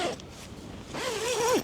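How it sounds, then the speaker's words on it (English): A heavy-duty sleeping bag zip with thick webbing lining runs in a quick, close, bright zipping pass lasting about a second. "I have zipped this up and down"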